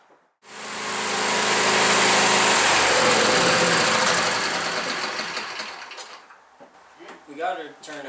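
A John Deere riding mower's engine cranks and catches, then roars loudly and steadily for several seconds before winding down, followed by voices talking close by.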